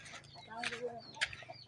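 A backyard hen clucking close by in a farm coop in the morning, a few short soft clucks and calls, with someone talking quietly over them.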